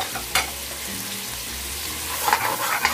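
Garlic, onion and ginger sauté in hot oil for pinakbet, a steady close sizzle with a couple of sharp stirring scrapes and rising crackles toward the end.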